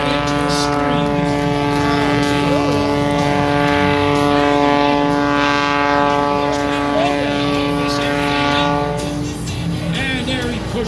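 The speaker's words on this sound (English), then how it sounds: "Listen to that engine screaming." An aerobatic airplane at the 2023 Martinsburg airshow, its engine screaming with a loud, sustained harmonic whine that wavers in pitch as it maneuvers, while an announcer talks over it.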